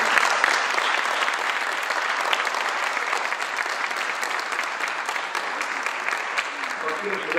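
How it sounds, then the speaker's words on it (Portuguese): An audience applauds after a conference talk, with steady, dense clapping that holds evenly for about seven seconds and stays fairly close. "Salve de palmas."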